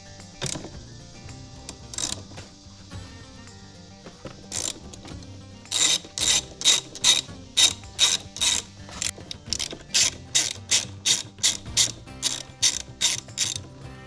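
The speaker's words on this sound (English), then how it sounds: "take these 3 bolts off your battery" A ratchet wrench with a socket loosens the battery terminal bolts on a Jeep Wrangler JL: a few scattered clicks at first, then fast, loud, close bursts of rhythmic ratcheting that repeat steadily to the end.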